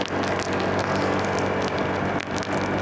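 Steady rain falls during a road trip from Navotas to Sariaya, Quezon, a dense continuous hiss with scattered patters and crackling drops, loud and close, with no voices.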